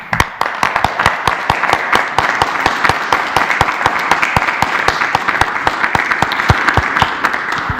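Sustained applause for medical staff at a COVID-19 press briefing, dense and fairly loud with sharp individual claps standing out across the whole stretch.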